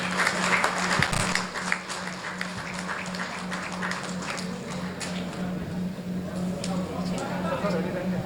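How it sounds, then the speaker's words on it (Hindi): Applause from an audience at an export conclave event, as people clap to thank the state chief minister; steady dense clapping runs through the whole stretch alongside a constant hum, with no voices standing out. "जोरदार तालियों के साथ माननीय मुख्यमंत्री जी का धन्यवाद करें।"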